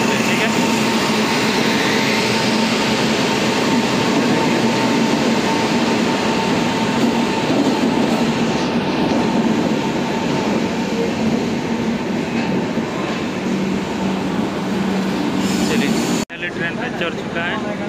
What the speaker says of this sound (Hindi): देखिए दूसरा ट्रेन उधर जा रहा है